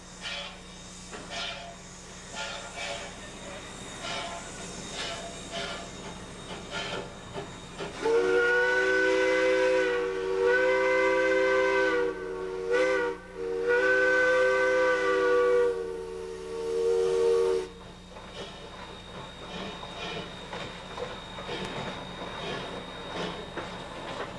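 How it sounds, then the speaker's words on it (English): A narrow-gauge steam train in the Colorado mountains gives a long, loud steam whistle in two main blasts with a brief dip between them, set against ongoing steam hiss and rail rumble. "These few steam engines and narrow-gauge trains are about all that's left of the hundreds of little trains that used to climb these rugged mountains"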